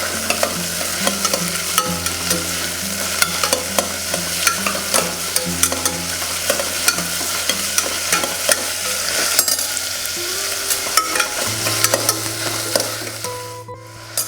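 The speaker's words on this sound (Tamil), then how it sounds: "இதை வதக்கிக்கலாம்." One medium onion and two green chilies sautéing in a pan for tomato rice, with a steady sizzle and frequent scraping strokes of a spatula stirring throughout, close and fairly loud, no talking.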